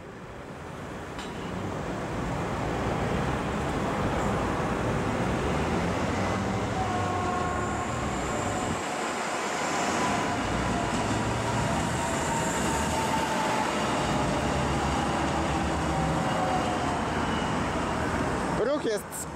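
An EN97 commuter train on Warsaw's suburban rail line, rolling past the Warszawa Główna station area as a steady, loud rumble with a faint high whine, while someone talks over it.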